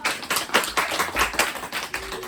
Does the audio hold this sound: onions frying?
no